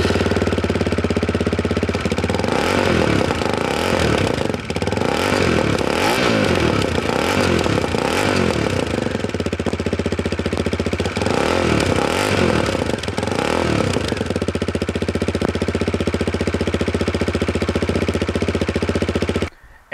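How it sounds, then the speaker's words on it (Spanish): A Hanway G15 125cc trail motorcycle engine idles and revs with a deep, throaty exhaust note, several rising revs in a row, loud and close, no talking. "Pero el escape suena muy bonito."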